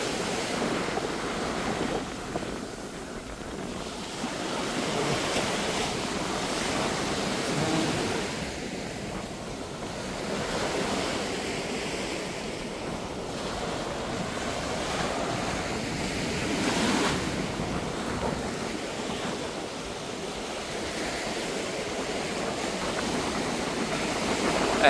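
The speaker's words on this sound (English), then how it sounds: "Something different when you walk on the beach, feeling the sand, the waves." Waves washing onto a sandy beach at Keramoti, Kavala, Greece, a continuous surf roar rising and falling in gentle swells, with wind buffeting the microphone throughout.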